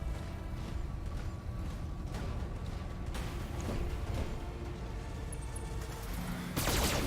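Weapons fire in the BattleTech mech combat game: a dense, continuous rattle of distant gunfire and mechanical thuds, with a louder burst near the end.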